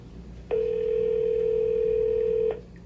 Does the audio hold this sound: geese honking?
no